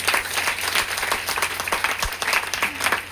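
An audience applauds continuously, a dense, steady patter of many hands clapping at moderate loudness, heard on its own.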